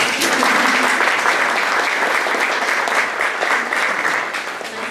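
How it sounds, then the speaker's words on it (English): Sustained audience applause at a 2024 Culver City Democrats candidate forum, a dense, steady wash of clapping throughout with faint voices mixed in. "Now is the time when you can applaud."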